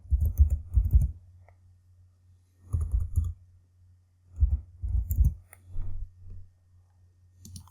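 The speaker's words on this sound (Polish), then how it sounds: "wpisujemy nową nazwę" Bursts of keystrokes on a computer keyboard as a new part name is entered in Onshape, a browser-based CAD program, falling into three or four short clusters with quiet gaps over a steady low hum.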